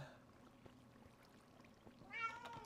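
A Minecraft cat gives a short meow late in the moment, at moderate loudness over faint game background noise, with no talk.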